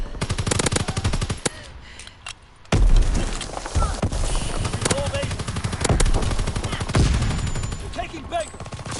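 Rapid machine-gun bursts, single gunshots and heavy booms of division artillery fire from a PS4 war video game crowd one another, loud and dense, with a voice talking underneath.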